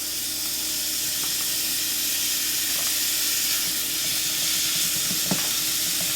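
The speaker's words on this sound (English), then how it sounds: "I'm going to get this meat sauteed." Meat sautés in a hot skillet with peppers, giving a steady, loud sizzle and hiss with occasional stirring scrapes, close and continuous.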